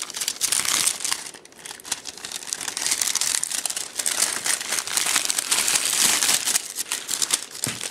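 Thin plastic bag, roughly 8 by 7 inches, being pulled open, with continuous loud crinkling and rustling up close and no pauses.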